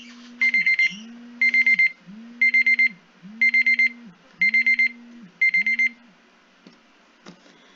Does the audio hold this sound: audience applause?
no